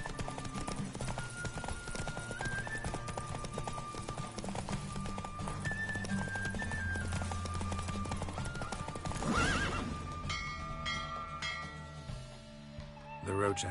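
Roach, the horse in The Witcher 3, gallops in a race with steady rapid hoofbeats and a whinny, set against game music, while a voice talks over the action.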